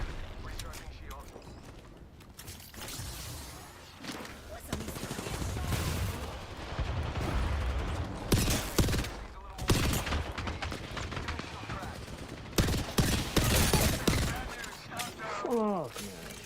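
Gunfire in the battle royale game Apex Legends, with repeated bursts and single shots of varying loudness spread through a busy firefight, mixed with other game effects and occasional talk.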